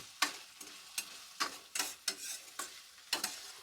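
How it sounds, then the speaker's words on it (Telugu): Sprouts with tomato and onion frying in a pan while being stirred: a steady sizzle broken by about eight rhythmic scraping strokes, close and clear, with no talking. "ఈ స్ప్రౌట్స్ని కూడా మనం బాగా మిక్స్ చేసుకొని వేయించుకోవాలి."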